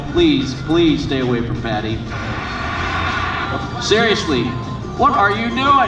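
An aerobatic airplane lands at an air show at Joint Base Andrews, its engine drone running steadily underneath while people talk loudly nearby.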